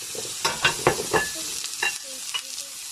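Onions frying in plenty of olive oil in a pan while stuffing is made, with a steady soft sizzle under scattered stirring clacks and scrapes, close and moderately loud, no one speaking.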